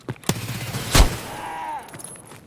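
Gunfire in a first-person shooter video game, with a sharp shot and a ricochet producing a headshot on a helmet, followed by a short whine, loud and close with a voice faintly underneath.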